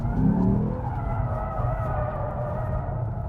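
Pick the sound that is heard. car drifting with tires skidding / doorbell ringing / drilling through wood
car drifting with tires skidding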